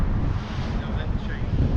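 Wind blowing outdoors on Beale Street in Memphis, a steady low rumble buffeting the microphone, loud and continuous with no voices heard.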